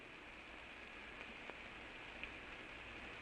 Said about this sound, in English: Rain beats in his face.